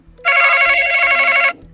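A game show telephone-ring buzzer gives one loud, bright electronic trill lasting just over a second, standing clearly alone against a quiet studio.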